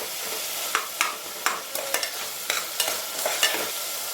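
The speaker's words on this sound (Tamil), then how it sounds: "இப்போது இதில் வெங்காயம் நல்லா வதக்கிக்கலாம்." Onions sauté in a pan for egg biryani, a steady bright sizzle punctuated by about a dozen scraping stirs of a spoon, close and even, with no voices.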